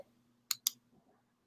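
Two quick, sharp clicks of a computer mouse, close and distinct, against near silence with a faint low hum.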